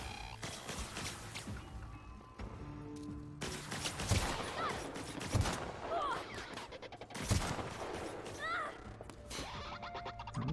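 Gunfire in the video game The Outer Worlds, with rapid bursts of shots and sharp single cracks in clusters, under a voice talking and other in-game sounds.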